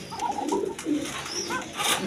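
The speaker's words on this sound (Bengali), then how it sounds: "অরিজিনাল পাশিরাজ কোকা চিকুন গলায় ডাকতেছে" A male Pashiraj pigeon coos in a steady run of soft, throaty, rolling calls, close and clear, with no one talking.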